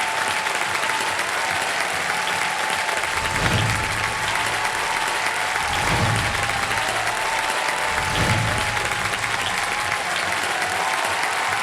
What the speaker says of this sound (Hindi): मैं चाहता हूं कि तालियों के साथ स्वागत किया जाए खान सर का